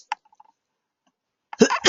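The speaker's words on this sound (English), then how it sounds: "I just sneezed" A single short sneeze, sharp and fairly close, breaking a quiet pause before a voice begins speaking.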